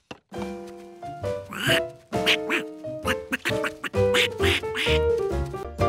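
Cartoon ducklings quack as they hatch, a rapid string of loud, nasal, tonal quacks in irregular bursts, some overlapping, close and clear.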